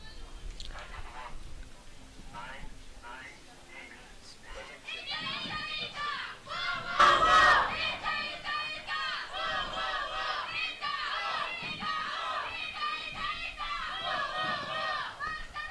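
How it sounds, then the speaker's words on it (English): Supporters of the Italian team cheer at a sports event in Patras, a dense high-pitched crowd of shouts and whoops that swells midway and keeps going, fairly distant, with voices mixed throughout. "Italian team is warming up now. Yeah, we can hear them cheering"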